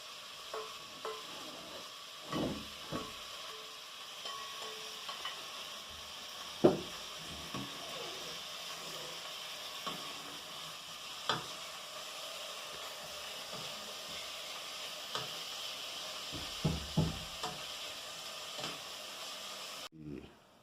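Cod pieces fry in red curry paste in a pan, a faint steady sizzle broken by occasional sharp utensil scrapes and clinks from stirring.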